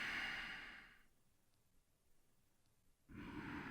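A long, soft exhaled breath during a yoga belly-breathing exercise, a close airy whoosh that fades into near silence before the next breath begins.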